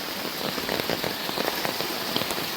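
Steady rain falls on a surface during the monsoon season in Goa, a close, continuous patter of drops with no voices.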